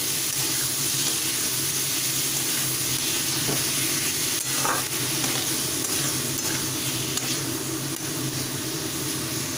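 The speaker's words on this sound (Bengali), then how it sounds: "এবার ভালোভাবে নাড়াচাড়া করে নেব" Fried eggplant being stirred into a spiced mince masala in a pan, with a steady, continuous sizzle and the scrape of stirring throughout, close and even in level, with no voices.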